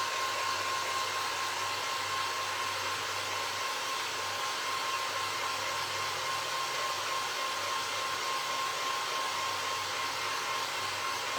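A hair dryer blowing steadily on a paper mache box, a continuous loud, close whooshing hum with a faint motor whine, running unbroken and alone without talk.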